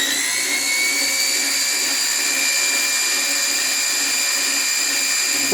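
Metal lathe spinning at high RPM, about 3,300, giving a steady, loud mechanical whine with several sustained high tones and no change in pitch, heard alone with no voices.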